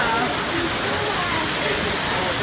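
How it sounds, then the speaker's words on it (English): Water splashing and rushing over the rim of a large fish tank, a steady broadband wash of noise that fills the whole stretch without a break. "I think it splashes over."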